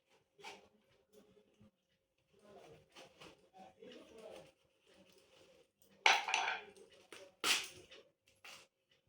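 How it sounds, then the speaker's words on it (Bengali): A watermelon is cut with a knife: scattered soft cuts and taps, then two sharp, loud crunching slices near the end, close to the microphone, mixed with a person speaking. "প্রথমে আমি তরমুজটাকে আমি কেটে নেব।"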